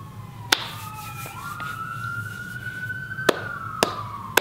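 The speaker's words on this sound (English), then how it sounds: "Ambulance." An ambulance siren sweeps upward and holds a long wailing tone, with a few sharp clicks and a low rumble of traffic underneath.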